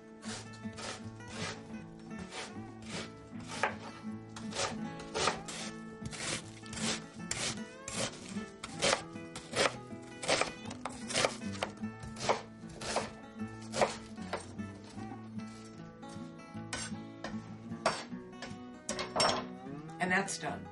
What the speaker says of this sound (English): we want to take 3 medium onions and we just want to chop them